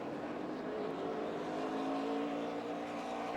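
NASCAR Truck Series pickups racing past in a pack at Talladega Superspeedway during the 2010 Mountain Dew 250, a dense continuous engine roar at steady high volume.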